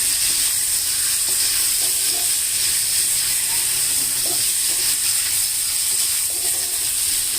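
Ongole tiger prawns fry in oil over a high flame, giving a loud, continuous hiss and sizzle with occasional faint stirring clicks and no talk.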